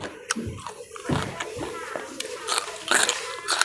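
Crispy pork, scalded lime-dressed pork served with bitter melon, being bitten and chewed up close, with wet crunchy munching and a few sharp crackles near the end while someone speaks.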